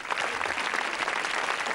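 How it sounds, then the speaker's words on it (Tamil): Lively applause from a studio audience on a Tamil TV game show, a dense, continuous patter of clapping at steady volume. "நல்லா உற்சாகமா கைத்தட்டல்"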